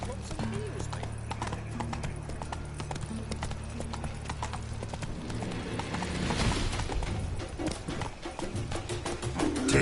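Horse hooves galloping in The Witcher 3, rapid rhythmic clip-clop on hard ground continuing throughout, with game sounds and voices speaking over the hoofbeats.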